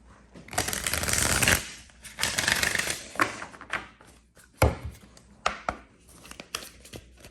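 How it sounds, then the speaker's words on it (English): Crisp riffling bursts of cards being shuffled, several rapid rounds separated by short pauses and softer taps, close and fairly loud. "let me get some cards from this deck here and see what comes through. I do want to shuffle it."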